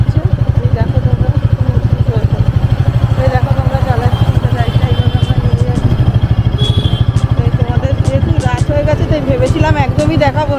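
A motorcycle rides along a road with its engine thrumming in a fast, steady pulsing beat close by, joined by light rattles and people talking over it.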